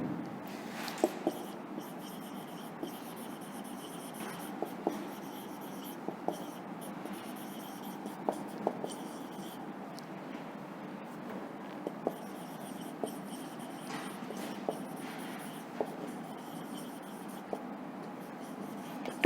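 Pen scratching steadily across paper as an answer is written out in an English class lesson, a quiet continuous rustle with occasional small taps, no talking.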